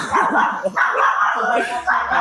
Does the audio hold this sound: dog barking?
yes